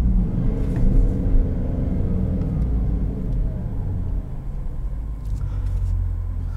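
Engine of a 2019 Jaguar F-Pace SVR, supercharged, rumbling steadily from inside the cabin while driving, a dense low drone with road noise and no talking.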